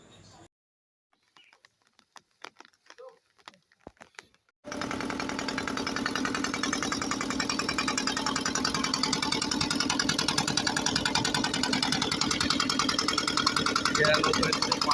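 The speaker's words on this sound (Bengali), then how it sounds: "আমাদের খেয়া নৌকা চলে এসেছে খেয়াঘাটে।" A ferry boat's engine at a river ghat in the Sundarbans, a loud steady mechanical drone that starts abruptly after a few seconds of near quiet with faint scattered sounds, then runs continuously close by.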